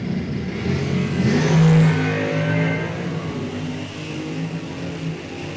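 Drag racers launching in a factory Stock or Super Stock NHRA race, including a 2010 Dodge Challenger, engines roaring and revving hard off the line with a loud surge that fades down the track.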